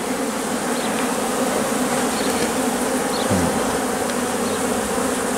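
Dense swarm of honeybees humming around hives at an apiary, with buttercups in front, a loud, continuous close drone with individual bees passing near.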